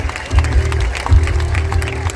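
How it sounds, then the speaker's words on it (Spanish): Dense clapping from a rock concert crowd at an outdoor plaza, a continuous loud roar of many hands with some cheering mixed in. "Un aplauso para Valencia"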